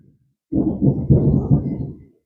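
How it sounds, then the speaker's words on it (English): A deep, heavy rumble rises suddenly, swells in a few rolling surges for over a second, then fades away; no voices. "Oh, y'all hear that thunder?"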